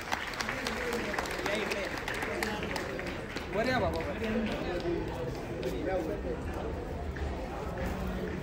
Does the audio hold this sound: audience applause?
yes